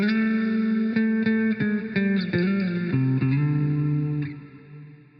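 An electric guitar plays through a customised delay plugin with a lowered rate, a run of picked chords and notes ringing with soft repeats before the last one fades out alone.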